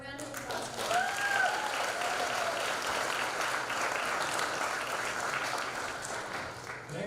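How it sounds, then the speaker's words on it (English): Audience applause at a folklórico dance gala showcase, a steady, moderately faint wash of clapping from a crowd that swells after a second and holds evenly, with a brief whistle or voice near the start. "A round of applause."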